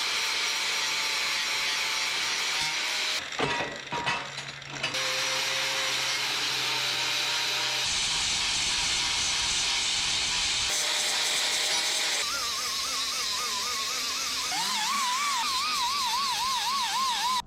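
An angle grinder works over the welds on a narrowed Ford 8.8 axle housing, a loud continuous high whine that changes pitch as the disc bites and eases, with short breaks and a wavering tone near the end.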